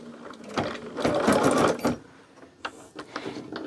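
An embroidery machine stitching a colored design in the hoop, rapid mechanical needle chatter in bursts that pause and resume, close and moderately loud, with no talk.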